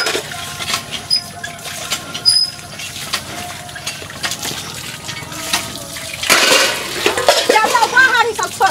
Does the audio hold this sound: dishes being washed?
yes